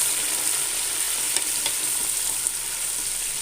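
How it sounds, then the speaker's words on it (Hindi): Ginger garlic paste and spices sizzling in a frying pan for Hyderabadi veg dum biryani, a steady hiss of frying with a few soft scrapes of stirring, close and continuous with no voices. "अब मैं इसके अंदर 1 टेबल स्पून अदरक लहसुन का पेस्ट डाल दूंगी और अच्छे से मिक्स कर लूँगी"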